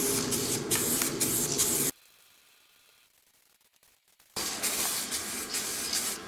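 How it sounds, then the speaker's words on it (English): Aerosol paint sprays in two long, steady hissing bursts onto the metal of a BMW V12 engine bottom end from an E32 750iL, separated by a quiet pause with faint clicks. "I'm spraying it 2 or 3 times and this will be enough layer for I think good protection."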